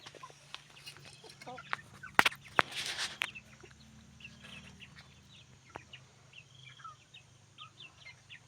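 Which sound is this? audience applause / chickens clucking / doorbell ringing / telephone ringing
chickens clucking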